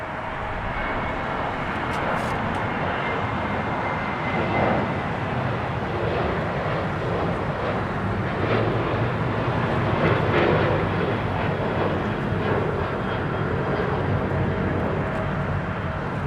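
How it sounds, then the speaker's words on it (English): A 2014-built China Cargo Boeing 777 freighter passes at LAX, a loud continuous jet engine roar that holds steady and swells slightly through the middle, with no talk over it. "A China Cargo 8420 heading to Shanghai. It's a 2014 built 777 freighter."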